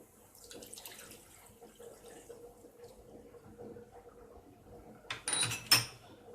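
A cup of milk is poured into a gram flour mixture, heard as a brief splashing pour near the end after a quiet stretch of faint handling noise.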